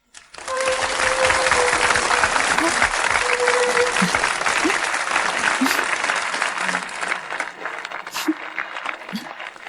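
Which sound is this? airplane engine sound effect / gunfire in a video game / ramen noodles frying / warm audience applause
warm audience applause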